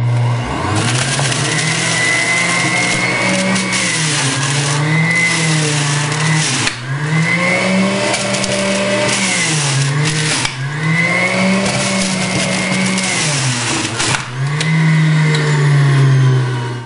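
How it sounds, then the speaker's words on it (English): A Breville JE98XL Juice Fountain Plus 850-watt juice extractor runs on high, grinding carrots and ginger with a loud, steady motor whine that sags and recovers in pitch every few seconds as each piece goes through. "We're going to juice the carrots and ginger on high."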